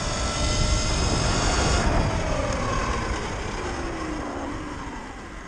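A Surron Light Bee 72V electric motorbike accelerates in mode 2, giving a steady, loud, wind-heavy roar with a faint rising electric whine that builds and then eases slightly toward the end.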